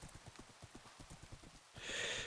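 Hooves of a horse in a video game clip-clop in a steady rhythm at close range, then a brief whinny rises near the end, with no talking over it.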